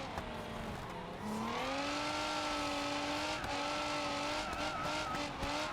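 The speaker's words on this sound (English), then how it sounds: "that supercharger does sound good" A supercharged drift car in BeamNG.drive revs loud and continuous, the engine pitch rising and holding with supercharger whine as tires squeal through a slide.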